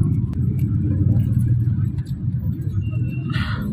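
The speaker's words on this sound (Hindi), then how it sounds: "ये ट्रैफिक इस तरीके का सत्यानाश करती है ना कि बस पूछे मत" Busy road traffic during rush hour, heard on the way to a mehndi night function, a steady low rumble of cars and engines with a faint higher horn-like tone near the end, loud and close.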